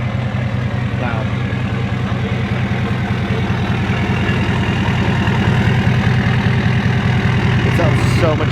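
Deep, throbbing idle of a large truck running through an oversized exhaust tip, a steady close-up rumble that swells slightly louder partway through, with people speaking faintly over the engine.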